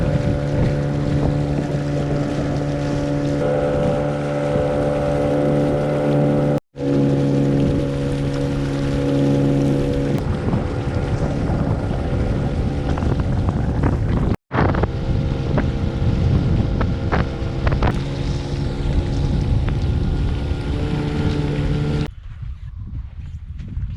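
A motorboat (kater) travels on open water in the Northern Timan wilderness: a loud, steady engine drone with heavy wind buffeting the microphone. It cuts out briefly twice, and the engine falls away near the end.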